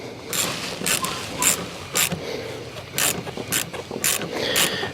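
Hose clamp being screwed tight on a pressurized hose in a Toyota Troop Carrier, giving a series of close, sharp ratcheting clicks in uneven bursts roughly every half second.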